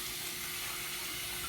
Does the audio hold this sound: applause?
no